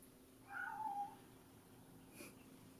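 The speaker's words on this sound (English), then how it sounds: "My cat." A single cat meows once, faint and drawn out, in a quiet room with low background hum and a brief soft noise afterward.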